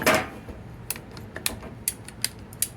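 Work Pro PEX cutters snap through a 3D-printed plastic part, giving a series of sharp, close clicks and cracks spaced irregularly after an initial louder crunch.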